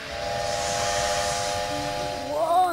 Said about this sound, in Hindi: क्योंकि मैं भाप का इंजन हूँ।